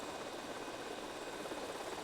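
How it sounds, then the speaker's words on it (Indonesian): A helicopter in GTA Vice City drones with a steady whirring rotor and engine hum, continuous and even throughout, with no voices. "Helikopterku yang kusayangi, ayo cepat dong jalannya."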